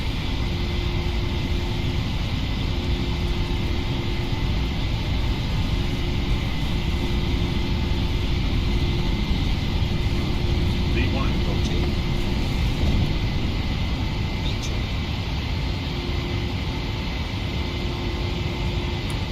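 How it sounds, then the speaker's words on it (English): A PMDG airliner rolls and climbs away on takeoff in the Prepar3D flight simulator, with a loud, steady engine roar and rushing air filling the whole stretch. There are no voices. "Once we rotate and take off, airspeed's alive, 80 knots,"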